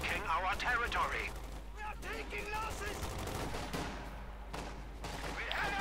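Thompson submachine gun and BAR automatic rifle fire in a Company of Heroes 2 1v1 match, sustained overlapping bursts with distant battle noise beneath steady commentator talk.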